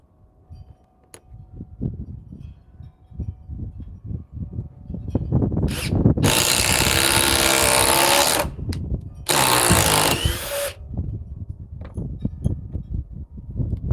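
DeWalt 860 high torque impact driver with a 1.7 battery pack on speed 3, running in two long loud hammering bursts with a brief pause between, surrounded by lighter handling clatter and knocks.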